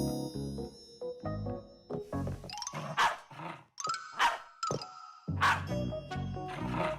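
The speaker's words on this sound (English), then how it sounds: "You know how Chewsocka barks whenever she sees a Fixie around." Chewsocka, a cartoon dog, barks in a series of bright, close, toon-like yaps and woofs with a roaring, growly edge, interspersed with short pauses.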